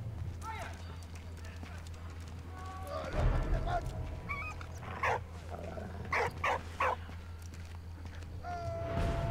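Dog in a World War I video game, Soldats Inconnus: Mémoire de la Grande Guerre, gives short bursts of barking and whimpering amid game ambience, with a voice speaking over it.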